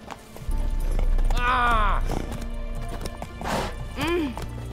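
Roach the horse in The Witcher 3: a steady, close clip-clop of hooves running under a whinny and a voice speaking and shouting.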